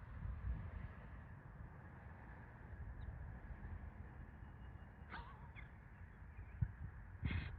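Crows give a couple of short caws, spaced seconds apart, over a quiet outdoor rumble. The calls come late in the stretch and sound fairly distant.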